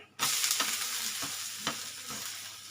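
Moong dal dosa batter fries in oil on a hot pan with a steady, close sizzle, and a few soft scraping or tapping touches rise above it, with no talking.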